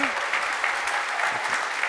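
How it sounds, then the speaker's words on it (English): Dense applause from an audience at a tech business talk, steady and close, filling the whole stretch with a brief voice near the start. "let's give a big round of applause to Jordan and Roman"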